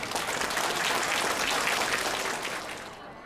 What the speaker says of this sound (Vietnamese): Xin quý một tràng pháo tay để cung kính Thượng Tọa đã đến với chương trình đêm nay với chúng ta.